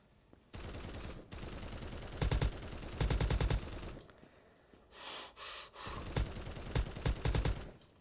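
Rapid gunfire from a sniper and an MP5 in the browser shooter Krunker.io, heard as long dense bursts of automatic shots broken by short pauses, with a brief breathy gasp in the middle.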